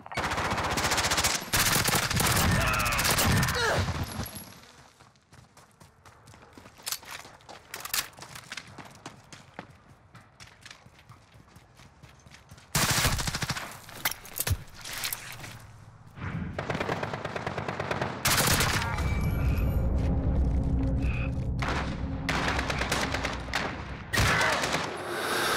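Bursts of rapid automatic fire from an MP7 submachine gun in Modern Warfare Search and Destroy, loud and close, with quieter stretches of footsteps and distant game sounds between the volleys.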